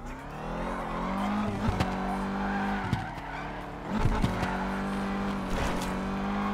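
A car in the Forza Horizon racing game drives and skids, with squealing tires and rising and falling engine tones, loud and close, several squeals around two and four seconds.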